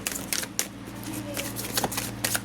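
Tarot cards shuffled by hand in quick, crisp bursts of riffling and flicking, close and fairly quiet over a low steady hum.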